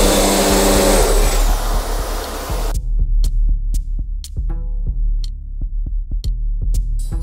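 A Recontech 1312 CNC vacuum system hums loudly with a broad roar, then shuts off, leaving a throbbing low hum punctuated by repeated sharp clicks.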